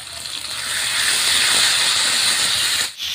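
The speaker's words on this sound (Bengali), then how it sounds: "এবার দিয়ে দিচ্ছি বেটে রাখা শুকনো লঙ্কা।" Ground dried chili paste sizzles in a frying pan already holding lightly fried potatoes with salt and turmeric, a loud broadband hiss that swells and holds steady, then cuts off abruptly near the end.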